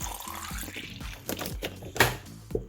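Spring water pours from a bottle into the coolant reservoir of a BMW E53 X5, a close gurgling stream with glugs and splashes and a couple of sharper knocks near the end, no talk.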